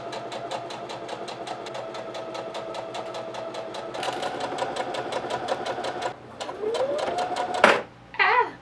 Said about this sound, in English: Just finished sewing.